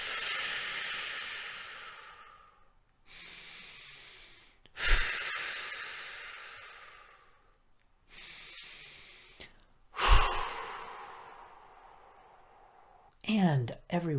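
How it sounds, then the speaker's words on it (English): Slow deep cleansing breaths taken during a guided Reiki relaxation session, long airy inhales and exhales with pauses between them, fairly close, with a few sharper gasping intakes and a short voice near the end. "please join me in taking 3 deep cleansing breaths"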